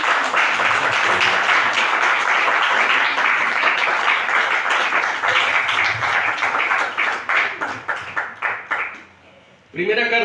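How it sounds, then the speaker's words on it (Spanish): A church congregation applauds in sustained, dense clapping that fills most of the stretch, then thins into scattered claps and fades out near the end. "Dele un aplauso al Cordero de Dios."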